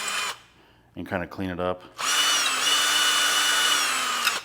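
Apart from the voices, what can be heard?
drill clearing epoxy from Corvette sensor holes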